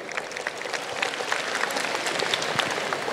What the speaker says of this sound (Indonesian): Tepuk tangan dulu buat dia nih.